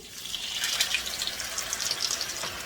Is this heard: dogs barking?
no